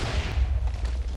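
A single deep, booming cannon blast from a pirate battle video game, loud and low-pitched, heard on its own with no talk.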